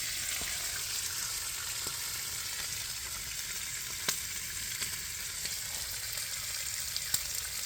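Bacon sizzles in a pan at a snowy woodland winter camp, a steady, close, fairly quiet hiss broken by occasional small pops and crackles, with no talking.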